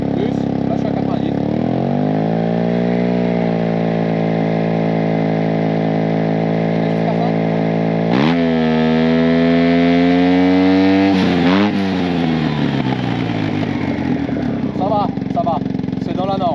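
A 2021 Yamaha TMax 560 scooter engine idles, then climbs and holds near 2000 rpm as it accelerates, with a steady near drone that rises in pitch twice. A voice talks over it.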